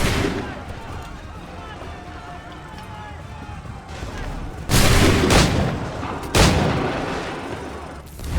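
Gunfire in Assassin's Creed 3 Remastered: two heavy musket volleys crack out loudly midway and near the end, each a sharp burst with a rumbling tail over a busy battlefield bed.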